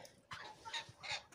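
Young hens on a farm cluck in a few soft, separate bursts of chatter, quiet and close, with short pauses between them.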